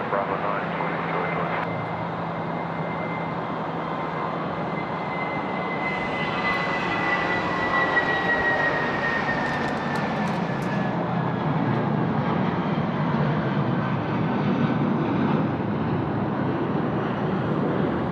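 An airplane landing on a runway at Sydney Airport, a steady loud roar of jet engines with a slowly falling whine that holds throughout, while a voice speaks over it.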